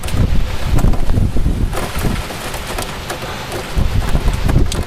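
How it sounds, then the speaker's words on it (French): Heavy rain from storm Caetano pours down in Clermont-Ferrand, a dense, loud and continuous hiss with gusts of wind buffeting the microphone. "accompagné de bonnes pluies, je pense que ça va pleuvoir une bonne partie de la soirée, de la nuit aussi"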